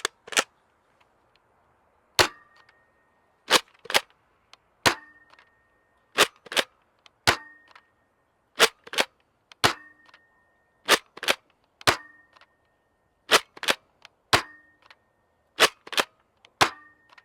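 A Nerf Pro Torrent spring blaster fires darts in a quiet room: about twenty sharp, snappy clacks, some in quick pairs, with short pauses between shots and a faint springy ring after several of them.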